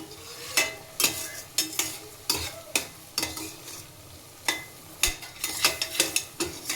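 Grated carrot halwa being stirred in a pan, a spoon scraping in quick irregular strokes with short clattering bursts over a low sizzle, close and fairly loud, without any talk.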